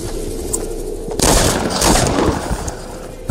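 Bursts of gunfire in the squads mode of the Fortnite Battle Royale video game: dense, loud volleys starting after a quiet lead-in and continuing in rapid clusters for about two seconds, with no talk over them.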